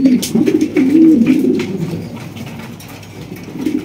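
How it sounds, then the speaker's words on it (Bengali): An Andalusian fancy pigeon coos nearby in a low, rolling murmur that swells and fades in the first half, then quieter cooing returns near the end while soft chirps from other birds are heard. "দেখতেই পাচ্ছেন অরিজিনাল অ্যান্ডালুসিয়ান শৌখিন কবুতর।"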